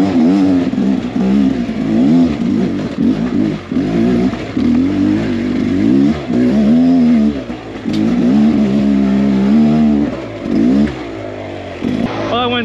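A Beta XTrainer 300 dirt bike fitted with a street tire climbs a bedrock trail, its engine close and loud as the revs repeatedly rise and fall.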